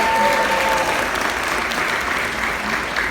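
An audience gives a round of applause for the park manager at a Six Flags Over Texas coaster reveal, a sustained wash of clapping from a sizable crowd that stays strong for about three seconds.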